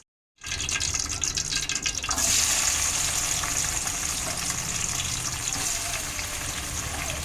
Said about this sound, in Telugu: ఆయిల్ కూడా హీట్ అయిపోయింది అనమాట. సో ఇప్పుడండి ఉల్లిపాయలు వేసేస్తాను.